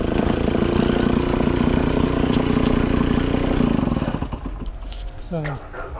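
A gas-powered leaf blower runs outdoors with a loud, steady engine drone that winds down after a few seconds, leaving a lower idle and scattered knocks.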